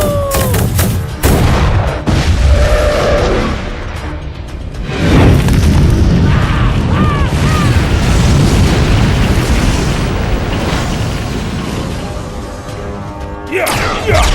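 Explosions and gunfire in an animated children's movie, with repeated loud booms and bursts over a dense battle soundtrack, plus rising whistles and brief character shouts.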